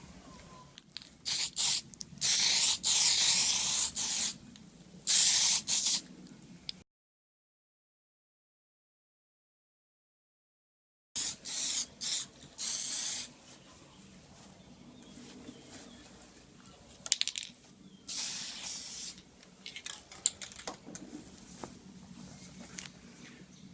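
A spray gun lays top coat clear onto replica 22B hood vents for a 1999 Subaru WRX, delivering repeated short hissing bursts close by, broken by a long silent gap before more passes resume, quieter toward the end.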